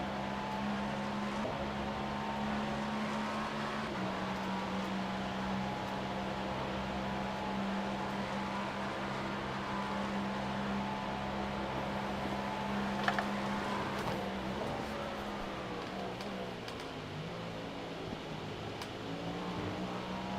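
A race car engine in an iRacing sim race at Le Mans drones loud and steady, holding a sustained tone before a downshift drops the pitch, then revs shifting and warbling through the rest.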